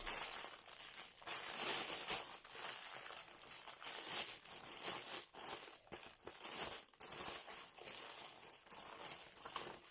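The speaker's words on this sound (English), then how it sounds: "I'm going to crinkle the bag." A plastic bag is crinkled close up, with dense, continuous crackling and rustling that shifts in bursts across the whole stretch, with no voices.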